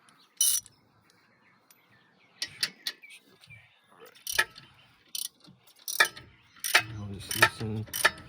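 A 19mm wrench loosens the nut on the rear strut of a 2007-2011 Toyota Camry with scattered close ratcheting clicks and metallic clanks, irregular and spaced out, some sounding in quick bursts.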